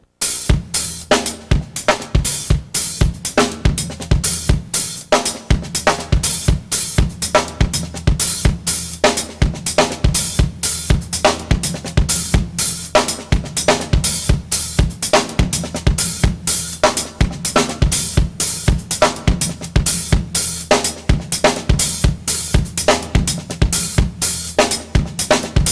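Steady drum-kit groove with eighth-note hi-hat strokes and accented snare backbeats over kick, played continuously, loud and close, with no talking throughout.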